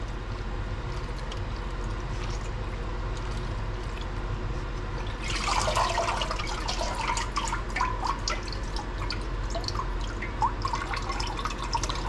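Beef and bok choy being rinsed by dunking in water while cooking Shin Ramen: a steady background hum, then splashing, dripping and sloshing water near at hand that starts midway and continues to the end.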